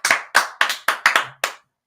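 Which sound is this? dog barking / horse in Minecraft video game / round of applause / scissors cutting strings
round of applause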